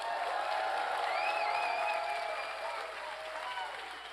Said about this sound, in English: I would like a big round of applause for the president of NorthSec himself, Olivier Bilodeau.